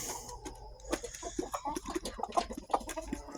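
A farm's main rooster clucking among the flock, a run of short soft clucks in an uneven rhythm, fairly close but faint, over a low outdoor background.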